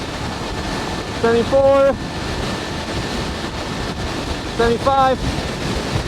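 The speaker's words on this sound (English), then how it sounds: "this headwind is killing me" Heavy headwind roars steadily across the microphone while riding a KAABO Wolf King electric scooter, with a rider briefly calling out numbers twice over the constant rushing noise.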